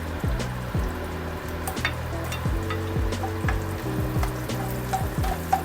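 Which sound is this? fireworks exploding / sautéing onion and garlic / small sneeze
sautéing onion and garlic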